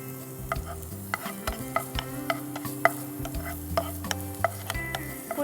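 Chopped onion frying in a little ghee, a continuous sizzle broken by a regular series of spatula scrapes and taps against the pan, close and fairly loud, with no talking.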